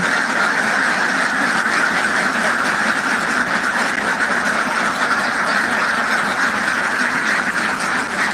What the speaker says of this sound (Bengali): এই যে দেখতে পাচ্ছেন হাঁসগুলো খাচ্ছে